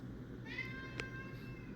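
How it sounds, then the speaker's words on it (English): An indoor cat lets out a single drawn-out meow, close and fairly quiet over a low room hum. "So that's my wonderful cat. He wants to go outside, but no, you can't go outside."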